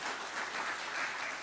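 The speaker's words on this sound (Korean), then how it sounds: "박수를 한번." A Korean church congregation at a Sunday service claps in welcome, a brief wash of continuous applause from the crowd.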